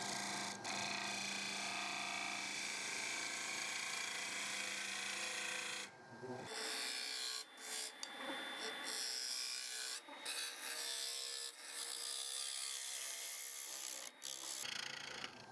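A bottom bowl gouge cuts into a wooden octagon winged bowl spinning on a lathe, giving a continuous, loud, rough scraping hiss near the tool, with brief breaks and shifts in tone as the cut changes.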